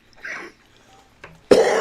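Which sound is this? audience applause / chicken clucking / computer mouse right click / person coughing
person coughing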